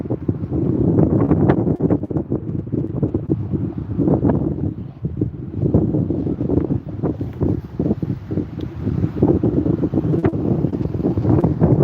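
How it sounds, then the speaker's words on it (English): Strong wind buffets the microphone in loud, continuous low rumbling gusts, with a hint of water and boat noise beneath. "It's kind of windy, guys."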